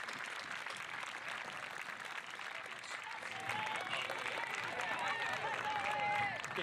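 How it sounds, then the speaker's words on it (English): Audience at a school promotion ceremony applauding, broad steady clapping that grows a little louder partway through, with background chatter and a few voices mixed in. "Give you a round of applause."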